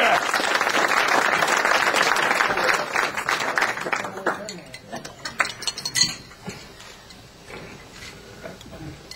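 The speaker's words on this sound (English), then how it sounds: "Let's give him a big round of applause." An audience gives a round of applause for Jim Smith as he is welcomed up to speak, loud dense clapping at first that thins into scattered claps and fades over several seconds.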